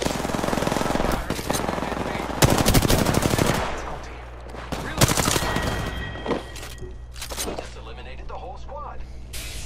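Bursts of rapid automatic gunfire and single shots ring out in a video game firefight, loud and close at first, then lighter pops and clatter under excited talk from several players.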